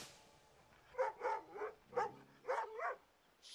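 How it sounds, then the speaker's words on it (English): A dog barks in the Assassin's Creed Rogue video game, five or six short, sharp barks in a quick irregular series, fairly close and distinct against an otherwise quiet background. "Shut up, doggy."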